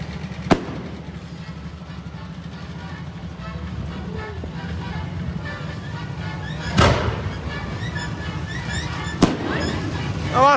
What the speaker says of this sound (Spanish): Estos son los fuegos artificiales, el regalo que te teníamos preparado para ti al final.